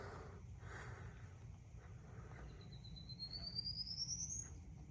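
A faint, thin bird call along a forest trail on the Appalachian Trail in New Jersey rises in pitch as a single drawn-out whistle over a low steady rumble of outdoor background noise.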